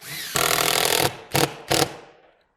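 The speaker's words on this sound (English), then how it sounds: "onto the drill, excuse the noise" A power drill whirs in one long burst followed by two short pulses, loud and close, as a screw is driven into timber.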